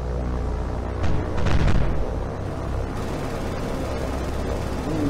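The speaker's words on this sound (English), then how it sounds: "explosion" A heavy explosion in a World War II naval combat game, with a deep rumbling blast swelling briefly near the middle over a continuous low roar of battle noise.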